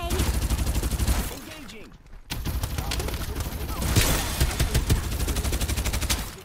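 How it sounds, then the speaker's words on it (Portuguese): Gunfire in the Farlight 84 video game comes as rapid automatic bursts with a steady mechanical rhythm, loud and close. A short silent gap breaks it before the shooting resumes, and players talk over part of it. "Um tiro, um tiro."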